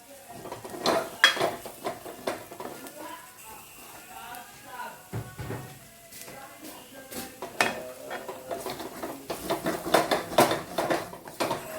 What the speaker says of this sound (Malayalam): ഇത്രയും കൂടെ ഇട്ട് ഇളക്കി പച്ചമണം മാറുന്നതം വരെ ഇളക്കി കൊടുക്കാം